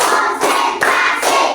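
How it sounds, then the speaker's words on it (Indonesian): A school class claps together in a spirit-clap routine led by a male teacher, loud dense hand claps filling the moment with a few brief dips marking the beat groups. "coba dulu tepuk semangat supaya kita belajar lebih semangat lagi, lebih giat"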